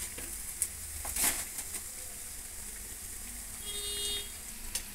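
Chana dal vadas deep-frying in hot oil give a steady close sizzle with crackling pops, a few sharper clicks over the bubbling, and no voices.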